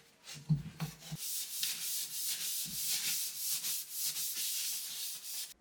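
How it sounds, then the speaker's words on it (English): Steady scratchy rubbing of 120-grit sandpaper scuff sanding a wooden dresser, back-and-forth strokes continuing throughout, fairly close, after a few soft knocks at the start. "gave it a scuff sanding with a 120 grit sandpaper"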